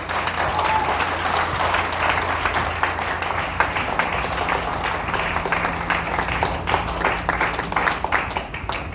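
A crowd at a promotional gathering breaks into sustained applause as Amar Singh, director of Topaz, is welcomed to the mic, dense and even clapping that fills the whole stretch.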